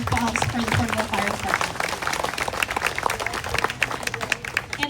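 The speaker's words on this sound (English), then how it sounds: "Let's give a big round of applause for the Porterville Fire" A crowd at an outdoor Flag Day ceremony in Porterville applauds the local fire department, with dense, steady clapping running the full length under and mixed with nearby voices.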